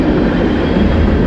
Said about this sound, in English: we got a train going by